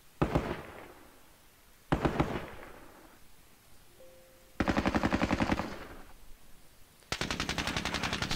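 Heavy machine gun support fire from armored personnel carriers in the Squad Battles Soviet-Afghan War game, heard as four separate rapid bursts of loud automatic fire with pauses between them, and no talk.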